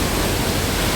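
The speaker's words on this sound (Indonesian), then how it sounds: "Jadi beginilah kondisi dari air terjun Coban Talon." Coban Talun waterfall runs with a strong rainy-season current, producing a dense, even roar of rushing water that fills the whole moment at steady loudness with no voices.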